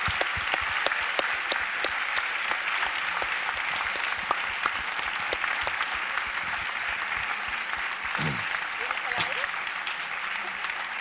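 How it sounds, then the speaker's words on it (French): Audience applause for volunteers at an anniversary event of the Adie organisation, steady dense clapping from a large crowd sustained throughout, with a few louder claps standing out near the end. "On peut peut-être avoir des applaudissements spéciaux bénévoles."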